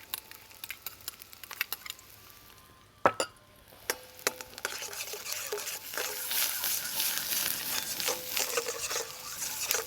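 Finger chilli and garlic frying in a hot balti pan, a steady sizzle rising through the clip with a few sharp metallic clanks and stirring knocks from utensils against the pan.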